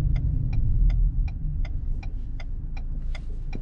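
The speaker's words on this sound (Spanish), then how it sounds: "otra vez ponemos las intermitentes" Inside a 2021 Ford Bronco Sport, the turn signal clicks steadily about eleven times, crisp regular ticks over a loud low engine and road rumble.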